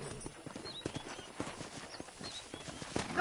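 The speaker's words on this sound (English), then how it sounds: "let's see if you can still ride a horse." Horse hooves clip-clopping at a brisk, regular gait while riding in Red Dead Redemption, a moderately faint, rhythmic series of hoof knocks with no voices.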